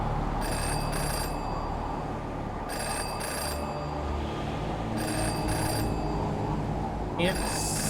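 In the video game Jenny LeClue, a phone booth phone rings repeatedly in regular paired bursts over a continuous ambient game soundtrack. The ringing comes at an even pace across the whole stretch.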